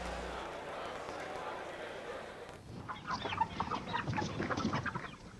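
Chickens cluck and chatter outdoors after a stretch of steady background noise, a close, busy flock sound that starts midway and continues to the end.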